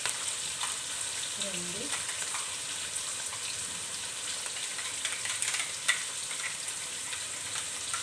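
Onions with ginger garlic paste frying for a 2 kg batch of gongura chicken, giving a steady close sizzle with stirring scrapes while a voice speaks briefly.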